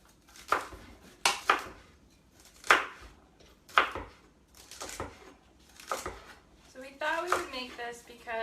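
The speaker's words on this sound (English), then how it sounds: "chop up your vegetables to whatever consistency you like" Vegetables being chopped on a board for homemade chicken noodle soup, sharp knife strikes spaced about a second apart, close, with a voice talking near the end.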